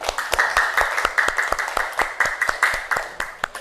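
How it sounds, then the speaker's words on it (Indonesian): A classroom group applauds a student team in steady, rhythmic clapping, fairly close and even in loudness for a few seconds, with a faint murmur of voices. "kita sama-sama kasih aplaus pada kelompok"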